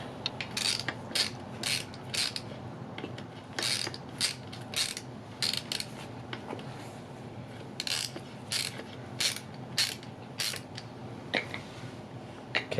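A ratcheting wrench loosens a wheel nut on a kid's bike, giving repeated short bursts of clicking pawl ratchet strokes with brief pauses between them, close and fairly quiet.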